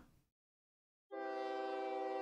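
A train horn sounds in the OpenTTD railway game as trains pull into the depot: a loud, steady multi-tone blast begins after a short gap and holds to the end, with no talk over it.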